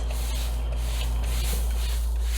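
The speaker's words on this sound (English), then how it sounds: "I'm going to spray them down" A steady, continuous hiss of water sprayed from close by onto baking sourdough bread, over a constant low hum, lasting the whole moment without pause.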